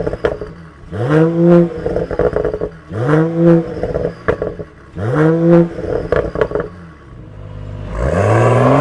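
A Mercedes inline six-cylinder engine revs hard three times in a row, each blip rising sharply and falling back to idle, loud and close, before a final sustained rev.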